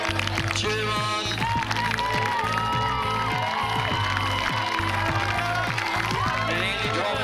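Spectators at an outdoor mile road race cheer and clap steadily as runners come around the last corner, with a dense, continuous crowd roar that includes children's shouts, and talk mixed in under it.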